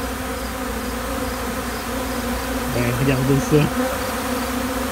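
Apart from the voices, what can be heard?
bees flying around outdoors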